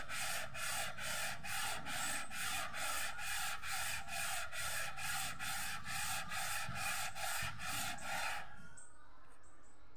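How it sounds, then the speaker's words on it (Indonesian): An aluminium cylinder head from a Gran Max, Avanza or Xenia is sanded by hand with coarse sandpaper, producing close, loud, regular back-and-forth scraping strokes about twice a second that stop near the end. "3 hari sudah itu di amplas belum tembus"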